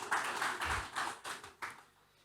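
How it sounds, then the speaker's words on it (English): Audience applause at a business forum breaks out in several short bursts of clapping, moderately loud, tapering off toward the end with no talk over it. "Please, a round of applause for him."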